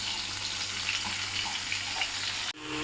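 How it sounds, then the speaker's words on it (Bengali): Prawns fry in hot oil in a pan, a steady loud sizzle and crackle that fills the whole stretch, broken by a sharp clunk near the end as the sizzling continues. "চিংড়ি মাছ ভাজা হয়ে গেল"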